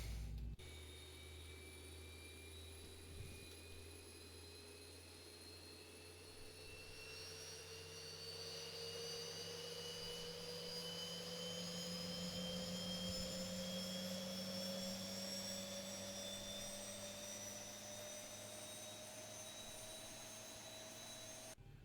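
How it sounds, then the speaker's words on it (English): Boeing 737-800 jet engines spool up during a start in the Zibo flight simulator, a steady whine slowly rising in pitch over a low rumble, with no talk. "So let's proceed with starting the engines."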